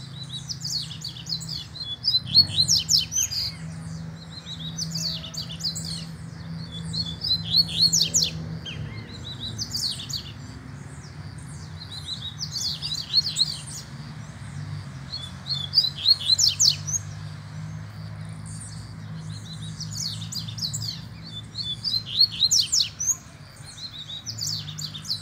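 A double-collared seedeater sings repeated bright, whistled chirping phrases in regular bursts, close and clear over a low steady hum.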